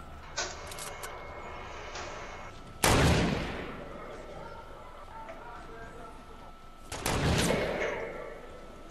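Gunfire from a tommy gun in the Fortnite battle dome playground mode, with two loud broadband bursts and a short rattle of shots over quieter game ambience.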